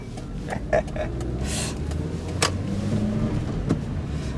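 A Proton Saga Iswara 1.3 car driving along, its steady engine and road noise running throughout with a few brief clicks and knocks from the cabin.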